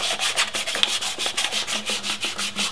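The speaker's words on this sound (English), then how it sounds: "now what I'm going to do is take some sandpaper and I'll just put it in here and clean up the rest" Sandpaper is rubbed back and forth by hand to clean the exhaust manifold gasket surface on an engine, a close, rhythmic rasping of steady strokes with no talking.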